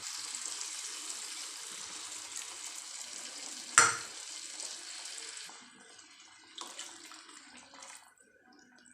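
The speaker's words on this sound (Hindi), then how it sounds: "अच्छा तरह से मिक्स कर लेंगे, चम्मच चला चला के" A spoon stirs semolina and water in a pot for suji halwa, a soft continuous watery swishing with one sharp metallic clink partway through, then quieter scraping and sloshing toward the end.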